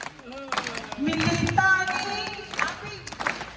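An audience claps at a Hindi poetry recital, a burst of applause rising midway and then breaking into scattered claps, with a voice reciting over it.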